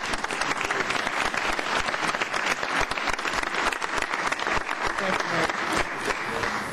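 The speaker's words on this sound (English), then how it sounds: "Let's give them a big round of applause." Steady applause from an audience at a council meeting, following a pledge of allegiance: dense, continuous clapping at an even level, with a voice faintly audible beneath it.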